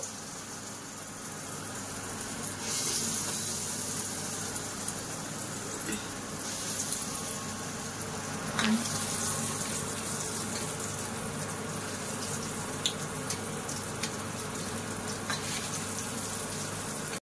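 Small round Bengali lentil fritters (bora) frying in oil in a kadai, a steady bubbling hiss that runs throughout, close and even, with occasional light clinks.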